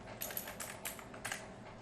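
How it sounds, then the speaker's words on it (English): Fingers tapping a computer keyboard, a quick run of light, close keystrokes in uneven rhythm over quiet room tone. "We will type multi-stream."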